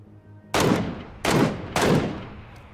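Three loud, sharp gunshots from an Mk14 rifle in a video game, evenly spaced about two-thirds of a second apart, each with a short decaying tail, with no voices over them.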